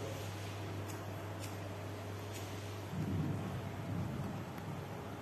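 Steady rain falls under a low, continuous rumble, and a deeper roll of thunder swells partway through. No one speaks.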